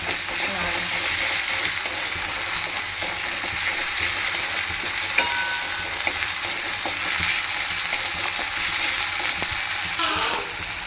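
Ginger and garlic paste frying in a pan for a cabbage curry gives off a steady, even sizzle that carries on throughout, with a few soft stirring clinks near the end.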